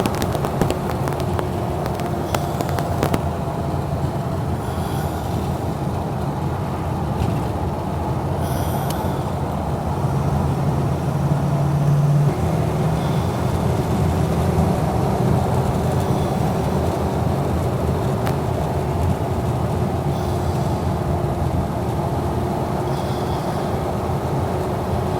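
A 1937 Ford Deluxe four-door with a flathead V-8 cruises on a freeway at about 50 mph, a steady, loud rumble of engine, road and wind noise heard from inside the car, continuous throughout with no talking.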